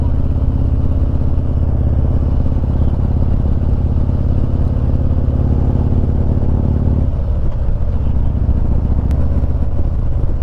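A Harley-Davidson Street Glide motorcycle cruising along the scenic Foothills Parkway, its steady engine drone and wind rumble loud and constant throughout, with a slight shift in tone near the end.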